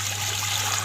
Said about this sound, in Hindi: इसमें पानी डाल देते हैं।